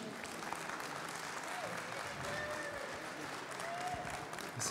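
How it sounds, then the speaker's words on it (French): An audience at a live cooking show applauds a chef, the clapping steady but fairly faint, with a few voices mixed in. "On peut applaudir Julien Guès, s'il vous plaît"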